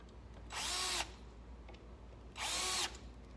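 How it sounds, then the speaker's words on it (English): Two short bursts from a power drill driving screws into wood during furniture assembly, each roughly half a second long and separated by a quiet pause, close and fairly loud over faint room noise. "finish driving the screws in"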